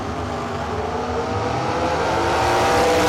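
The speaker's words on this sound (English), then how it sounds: "you heard him rip the throttle" A drag racing car at a Fall Fling event has its throttle ripped wide open, a loud, harsh engine roar that holds steady and swells slightly toward the end, with no talk.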